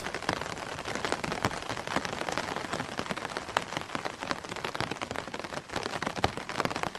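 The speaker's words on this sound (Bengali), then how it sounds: "কানে ভেসে আসছে শুধু ছাতায় পড়া ফোঁটা ফোঁটা পানির আওয়াজ" Rain pattering steadily on an umbrella overhead, dense irregular drops tapping close by, with no voices.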